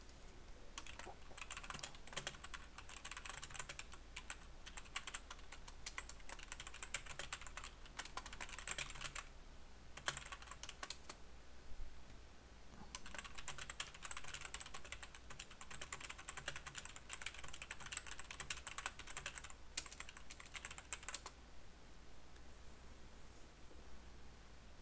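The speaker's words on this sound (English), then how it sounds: "I'm typing in chat here because I know there's some delay." Rapid keyboard typing in steady bursts with brief pauses, close and fairly quiet, with no speech, while someone types chat messages during a Magic: The Gathering Standard match with a BW Control deck.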